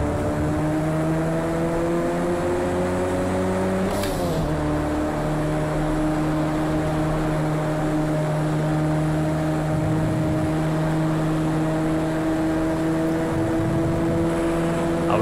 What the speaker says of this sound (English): I thought I could hear a car behind us.